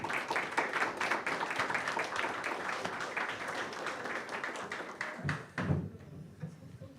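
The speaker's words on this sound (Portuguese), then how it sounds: "E uma salva de palmas para o melhor analista do país." Audience at an economics talk event applauds an analyst, with quiet, dense clapping that runs steadily before thinning out and fading near the end amid a few soft thumps.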